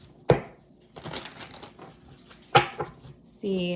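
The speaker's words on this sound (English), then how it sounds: "let me just pull some cards here" Cards drawn from a Bianco Nero tarot deck give two sharp snaps with papery crinkling and shuffling between them, close and fairly quiet, ending in a brief rustle.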